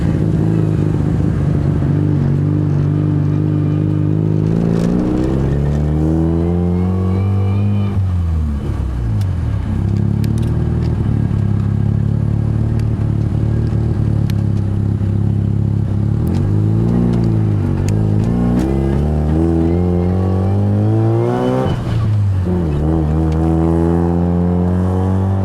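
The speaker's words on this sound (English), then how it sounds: "2010 335 twin turbo BMW." A 2010 BMW 335i twin-turbo engine revs loudly and close by, its tone rising and falling through repeated pulls and dropping off between them, with no talking over it.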